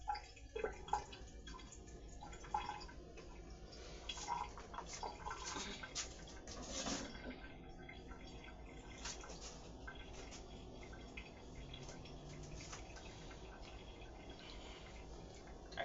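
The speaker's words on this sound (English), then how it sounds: "I couldn't take hearing that water run down the drain" Faint, steady trickle and drip of water from drained vegetables running down a kitchen sink drain, quiet and continuous with small splashes scattered throughout.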